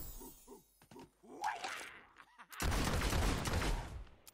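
A shotgun in the video game Fable II fires in a sharp blast with a rough, crackling tail, after a few quiet game sounds and faint voice-like bits.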